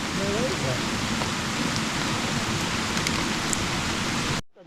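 Steady rain pours down outdoors near the Laos–Vietnam border area, a dense, even hiss that fills the scene before cutting off abruptly at the end.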